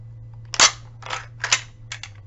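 A 7.7 Arisaka training rifle fires blank rounds: one sharp, loud report followed by three more quick cracks over a steady low hum, with no talking.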